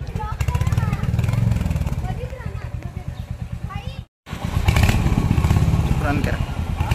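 A new Royal Enfield Bullet motorcycle engine revs loudly up close with its thumping single-cylinder beat, breaking off for a moment before roaring back, while people talk over it.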